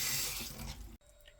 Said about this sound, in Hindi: थोड़ा सा हल्का सा ठंडा पानी डाल देंगे